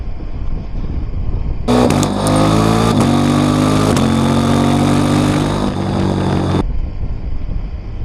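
A KTM 790 Adventure motorcycle with a quick shifter rides along, its engine droning loud and close for about five seconds with quick pitch steps as gears change up, rising out of steady wind noise and then cutting back to it.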